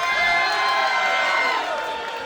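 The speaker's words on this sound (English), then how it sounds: "And the crowd, pun fully intended, energized here for Vinny Pacifico" Wrestling crowd at a Southern Sixteen tournament show cheering loudly for Vinny Pacifico, a dense wash of shouts and whoops that swells then eases slightly over a couple of seconds.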